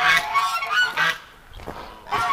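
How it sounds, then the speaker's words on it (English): Several geese honk loudly in bursts near a group of ducks outdoors, with a quieter gap between the first honks and a final burst. "The geese stick with the ducks."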